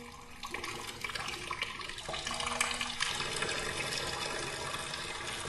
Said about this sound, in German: Wieso kommt so viel Wasser?